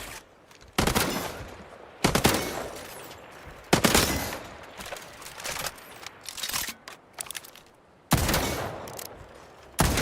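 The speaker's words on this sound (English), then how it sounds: "We can start by firing your weapon. Go ahead. Take some shots." The player's weapon in Highguard fires several loud, close bursts of rapid gunfire, separated by short pauses, with echoing tails between bursts.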